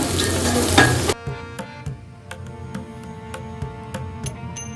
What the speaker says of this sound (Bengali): এখন এটাকে আমরা ফ্রাই করে নেব কালারটা ধরা অবধি।